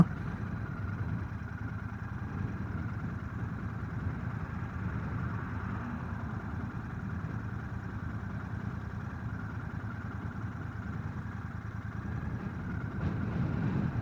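A Royal Enfield Bear 650 motorcycle idles steadily at close range, its low, even engine drone holding at a constant level for the whole stretch with no voices over it.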